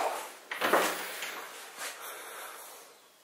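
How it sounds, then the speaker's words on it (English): An interior door in an abandoned mansion hidden in the jungle swings shut on its own, giving one soft, close thud with a brief rattle that fades into a quiet room. "That door literally just freaking shut."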